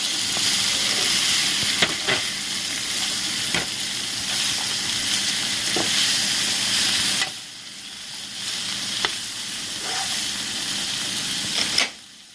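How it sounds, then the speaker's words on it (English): Garlic and herbs sauteing in a pan for a pasta sauce, a loud, steady close hiss with occasional utensil clicks, briefly dropping quieter midway before the sizzle returns, without speech. "garlic and some herbs in it. So and then saute it for just a few seconds"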